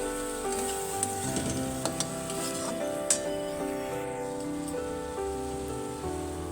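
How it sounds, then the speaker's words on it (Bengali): Leafy greens sizzling in a pan and stirred around, a constant close hiss like rain with scattered scraping and clicking stir sounds and no talk. "এই শাকগুলো এর মধ্যে দিয়ে দেবো নাড়াচাড়া করানো হয়েছে"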